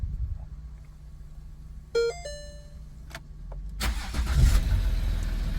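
A Ford Territory after an EGR delete gives a short dashboard chime, then the engine cranks, catches and settles into a low, steady idle, heard alone at close range.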